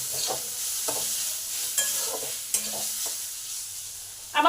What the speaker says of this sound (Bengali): এবার পেঁয়াজটার সঙ্গে এই শাকটাকে 2 মিনিট একটু নেড়ে চেড়ে ভেজে নেবো